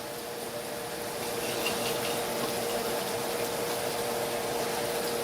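Water swirling and sloshing inside a glass spaghetti sauce jar as it is shaken, a steady close rushing wash that holds without pause.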